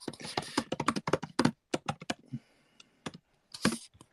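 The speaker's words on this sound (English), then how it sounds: "Clickety click click click. What are you typing on?" Computer keyboard typing comes in quick, close bursts of crisp key clicks separated by short pauses, loud and with no talk over them.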